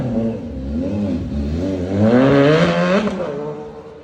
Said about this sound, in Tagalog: swabe, big bike ni Boss Big. Ano pa yan, naka-slip on pa lang yan